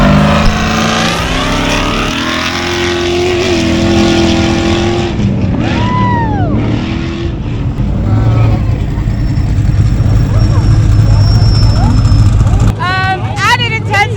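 An off-road race truck pulls away from the start line at the Mint 400 desert race, a loud engine roar building and holding with crowd noise and voices around it, plus brief sharper revs near the end.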